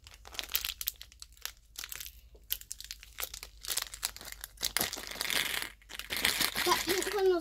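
A plastic Kinder Joy surprise egg wrapper is crinkled and torn open in close, uneven bursts, while someone talks over the handling.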